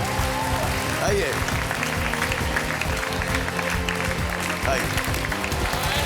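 Game show studio audience applauds a contestant, continuous clapping mixed with loud music and a host's voice speaking briefly over it.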